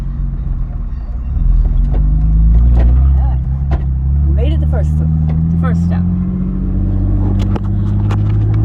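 A 2004 Ford F-150 pickup truck engine rumbles loudly and steadily, rising slightly in pitch as it revs, while a person speaks briefly over it.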